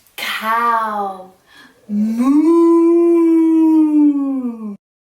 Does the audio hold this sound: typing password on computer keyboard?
no